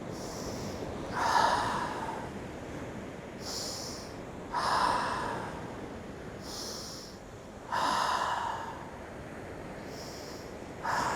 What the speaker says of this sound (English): Take 3 good breaths.